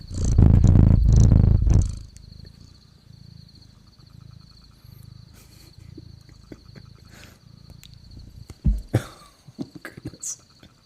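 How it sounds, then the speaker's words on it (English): A cat purring right against the microphone, a loud rumbling burst for the first couple of seconds, then a softer steady purr continuing under quiet room sounds and a few brief bumps near the end. "you're going to get some purrs right on the microphone there"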